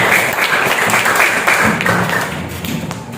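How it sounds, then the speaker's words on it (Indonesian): A classroom of students claps for their classmates, a dense and fairly loud patter of hands that fades slightly toward the end. "Tepuk tangan buat kalian semua."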